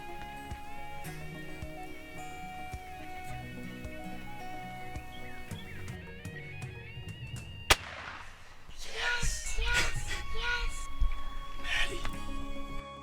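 A single loud shotgun blast goes off close by during a spring turkey hunt in Oklahoma, a sharp crack after a quiet stretch of faint background sounds, followed by rustling and commotion.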